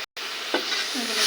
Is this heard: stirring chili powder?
yes